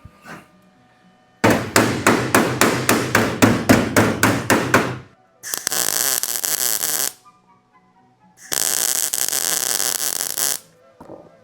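Hammering on welded sheet metal of a custom VW roof: a rapid, close series of about a dozen sharp, ringing blows, followed by two long, harsh, steady bursts of metalwork noise with quiet gaps between. No one speaks.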